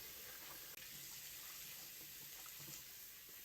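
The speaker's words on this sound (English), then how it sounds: "I like to wet my sponge and squeeze it over the faucet to get rid of any of the product" Faucet water running steadily while a sponge is rinsed over a sink during a deep clean, a constant hissing stream with faint gurgles and one brief dropout, quiet and alone.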